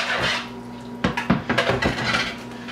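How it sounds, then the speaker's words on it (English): Dressing whisked in a large bowl with salt and pepper for a shrimp and fruit salad, a run of quick clinking taps of whisk against bowl, fairly close, with no talking. "Whisk it up."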